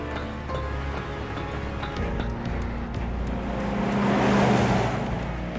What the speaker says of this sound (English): That's a Shinra truck, isn't it?